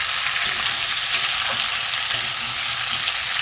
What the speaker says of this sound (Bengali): ভালো করে একটু ভেজে নিই।